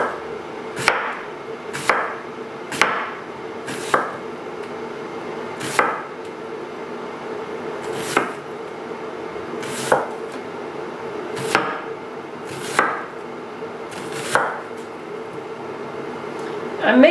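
A knife chops red onion on a board in about a dozen sharp, evenly spaced strikes close by, over a quiet room hum with no talking.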